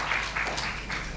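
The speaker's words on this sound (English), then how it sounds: "Claps." Lecture audience applauding an astronomy speaker as he is introduced, a brief, steady wash of clapping from a crowd at moderate distance, with no talking over it.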